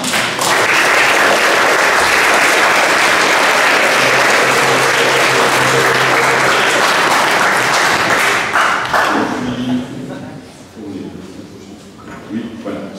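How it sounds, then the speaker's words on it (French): A Protestant parish congregation at a 500th anniversary service in Dorlisheim applauds loudly and steadily for about nine seconds, then the clapping dies away to scattered taps and a few voices. "Je crois qu'on peut s'applaudir."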